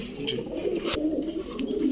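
Pigeons coo softly and continuously at close range, their low throaty murmurs overlapping with no talking.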